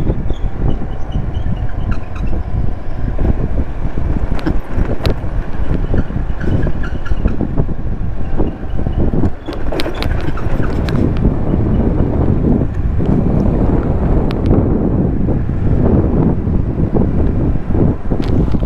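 Boat on open water near Tapola, recorded from a moving scooter, with heavy wind buffeting the microphone throughout; a steady, loud low rumble of wind and engine-like noise masks any distinct boat sound.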